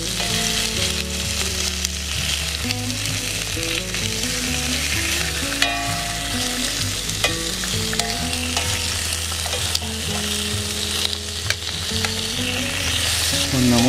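Bacon frying in a pan at a campsite gives off a loud, continuous crackling sizzle, close up and steady, with occasional faint clinks and no one talking.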